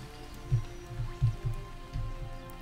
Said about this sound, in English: Yep, that is acid rain.